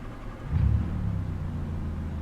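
Car engine cranking in repeated attempts while the gas pedal is pumped, a low rumbling churn with a brief surge partway through, close and fairly loud.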